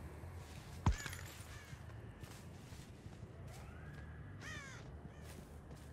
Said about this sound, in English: Alright, so we have some landed crows.